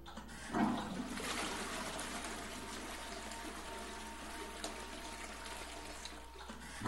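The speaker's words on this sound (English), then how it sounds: "Keep on flushing it. Flush that toilet. Flush it good." A toilet in the video game Silent Hill Downpour flushes with a steady rushing, trickling water sound that continues for several seconds. It is fairly faint and alone, with no talking over it.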